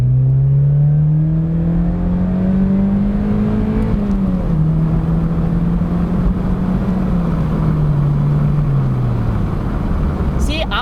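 A 2008 Mazda Miata accelerates hard in a pull, its engine note climbing steadily through the revs, dipping briefly at a shift, then rising again, loud and close throughout with continuous road and wind roar.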